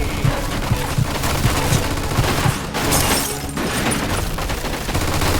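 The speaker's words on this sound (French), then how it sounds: "on dirait qu'on a retrouvé la mitrailleuse" Rapid machine gun bursts rattle in the Mafia II video game over a dense, loud battle din, with heavy, repeated firing throughout.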